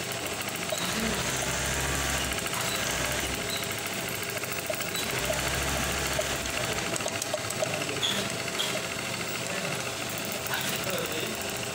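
A Brother LH4-81 manual buttonhole sewing machine runs in repeated bursts, a rapid mechanical chatter with a low thumping rhythm, close and steady, with no speech.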